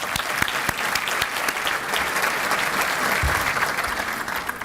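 Steady round of audience applause for Craig at the Suffolk, Virginia State of the City event, even continuous clapping from a crowd at moderate distance with no break.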